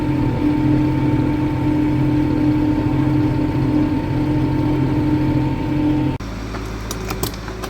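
A John Deere 8760 tractor's engine runs at a steady, loud, close drone, then the tone drops abruptly to a quieter, thinner running sound near the end.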